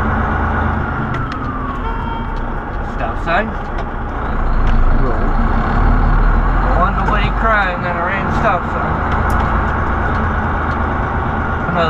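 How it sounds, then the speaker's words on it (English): A truck approaches with a loud, sustained engine rumble that swells in the middle, heard from inside a nearby vehicle with a siren-like wavering tone briefly in the mix. "This truck is coming."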